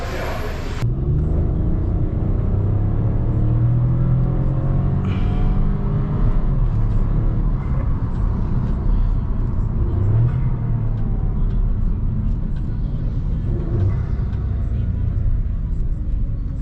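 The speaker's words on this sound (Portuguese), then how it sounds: "Bora dar uma acelerada e depois a gente volta com o ronco." A VW Virtus 1.0 TSI with downpipe, catalyst removed, remapped ECU and a Y-pipe catback with no muffler and dual tips is revved repeatedly, several rising engine sweeps over a loud, constant exhaust drone heard up close.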